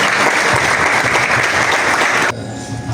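Warm, dense applause from an audience at a cultural recognition ceremony held by African students, loud and continuous, dropping abruptly in level before the end.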